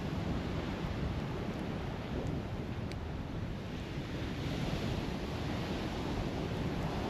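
Ocean surf at Point Pleasant Beach on the Jersey Shore, rough with rip currents, roaring as a steady broadband wash with wind buffeting the microphone throughout, no voices.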